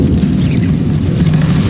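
Confringo blasting spell explosions in the Hogwarts Legacy video game, a loud, continuous rumbling boom with crackling bursts that fills the short moment without any pause.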